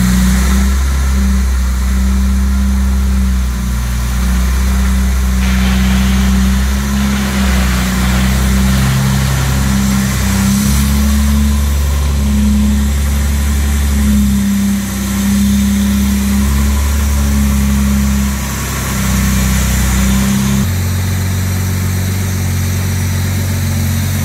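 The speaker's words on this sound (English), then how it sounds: "Got the idle nice and smooth." A restored original 1962 Jaguar E-Type 3.8 with its engine running at a steady, smooth idle, a loud continuous low rumble held close throughout with slight shifts in pitch and no voices.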